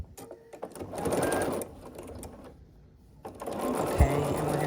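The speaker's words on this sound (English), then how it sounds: "So the first thing we're going to do is sew these 2 units together." Sewing machine stitching two quilt block units together for a scrappy sampler block, running in steady bursts with a short pause in the middle and a small clunk near the end.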